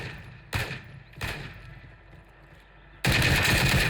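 Gunfire from a first-person shooter video game: two sharp bursts early on, a quieter gap, then a loud sustained volley of rapid fire at the end, with no talking.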